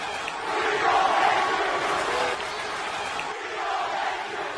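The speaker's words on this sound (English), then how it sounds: "The crowd chanting for Hoffman." A baseball stadium crowd chants for a player at a Toronto Blue Jays versus Athletics opening day game, a loud, sustained roar of many voices that swells and eases slightly over several seconds.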